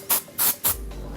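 Three quick, loud bursts of texturizing hair spray hiss from an aerosol can close by during hair styling, each puff separated by a short pause, followed by a low room rumble.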